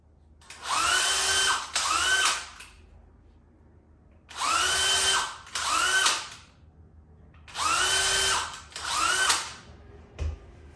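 A power drill bores into the sole of a Nike Air Max sneaker in three pairs of short whining bursts, each rising then steady, with quiet gaps between. The sound is close, with no talking.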